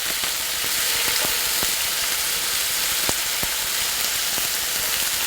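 Korean barbecue pork neck steak frying in a pan just after being flipped, a loud, continuous hissing sizzle dotted with crisp spitting pops, heard close up and alone.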